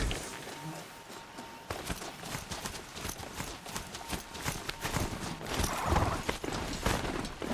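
Mechanical hoofbeats of a robotic Strider mount in Horizon Zero Dawn, a steady clattering trot with metallic clicks and sparking crackle over a continuous outdoor game ambience.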